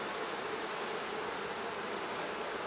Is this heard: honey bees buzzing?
yes